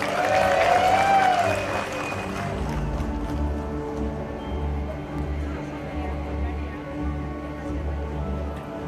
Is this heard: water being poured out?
no